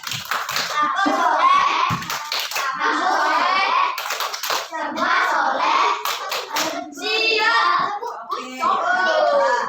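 Children chant loudly together while clapping their hands in rhythm, voices and claps mixed throughout.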